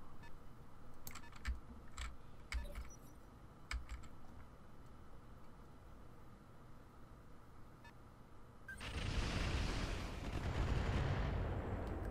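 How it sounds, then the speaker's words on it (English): Roguetech BattleTech mechs firing a full weapons salvo, a PPC, Gauss rifle, large laser and Ultra 10 autocannon: sharp clicks first, then a loud sustained roaring barrage of fire that swells and holds near the end. "All weapons fire."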